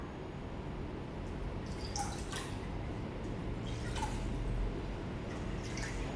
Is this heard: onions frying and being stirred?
no